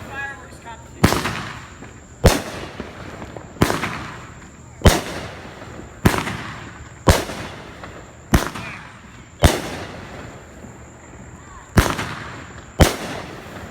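Big Thunder Fireworks' Yellow Rose of Texas 500-gram cake fires about ten loud, booming shots at a steady pace roughly a second apart. Each bang trails off in a crackling tail.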